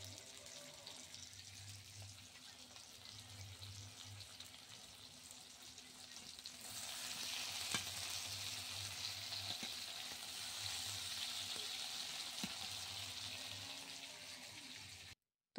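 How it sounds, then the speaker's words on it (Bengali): Eggplant fries in a pan with a continuous hiss that grows noticeably louder and fuller about halfway through, a low hum running underneath and a few faint clicks, with no voices. "বেগুন ভাজা চাপিয়েছি"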